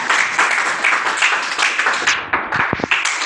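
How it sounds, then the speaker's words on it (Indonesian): Classroom applause from a group of students, dense rapid clapping that holds steady and then thins into a few scattered final claps. "Tepuk tangan."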